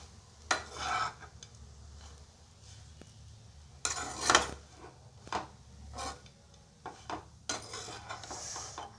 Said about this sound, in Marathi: आता याला आणखी छान मिक्स करून घेणार आहे